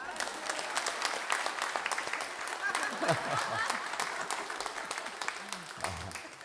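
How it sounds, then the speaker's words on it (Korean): A church congregation claps in a steady, moderately distant round of applause, with voices murmuring underneath. "나온 김에 박수 한번 쳐주시죠."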